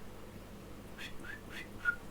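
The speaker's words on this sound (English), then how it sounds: "sometimes I whistle" A man whistles a few short, faint notes in brief bursts while playing online rapid chess, heard over a quiet room background.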